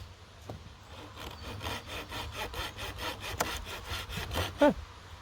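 A flexible saw blade gadget cuts through wood in quick, regular rasping strokes, close and moderately loud, with no one talking.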